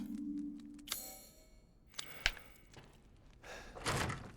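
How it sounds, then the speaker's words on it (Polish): A door opening by itself in the video game Resident Evil Village: a low creak and heavy mechanical thunk, a sharp knock, then a louder rattling clatter, fairly quiet and with no talk. "Drzwi otwierają się same."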